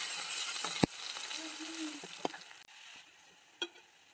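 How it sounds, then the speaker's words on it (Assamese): Garlic and onion frying in hot fish-frying oil, a steady close sizzle with a few sharp clinks and stirring scrapes over it, and no voice. "অলপ দেৰি ভাজি ল'ম"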